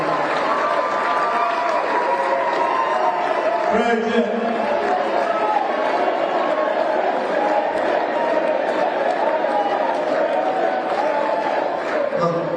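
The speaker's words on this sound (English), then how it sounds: "can we give my wife an amazing round of applause?" A crowd at an Ohio election event applauds steadily and loudly throughout, with dense continuous clapping and some cheering mixed in.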